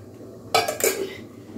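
A metal ladle clinks and scrapes against a pot twice in quick succession while chicken curry is served, short sharp knocks over a quiet kitchen.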